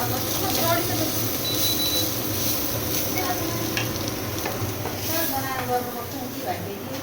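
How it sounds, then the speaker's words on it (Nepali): Chicken biryani ingredients frying in a pan until golden brown, a steady close sizzle with occasional stirring scrapes running throughout, voices talking over it. "गोल्डन ब्राउन हुँदैसम्म यसलाई तार्नुपर्छ। यो तार्नुपर्छ भनेर फ्राई गर्नुपर्छ।"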